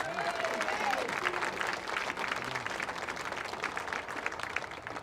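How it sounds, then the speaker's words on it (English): Supporters at a hurling senior final applaud with a continuous crowd clapping texture, moderately distant, with a faint whistle-like tone early on and murmurs underneath. "So big round of applause for them."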